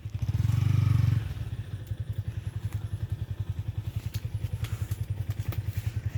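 A motorbike rides off-road through jungle, its engine swelling briefly at close range and then settling into a steady, rhythmic low chugging with scattered clatter and thumps.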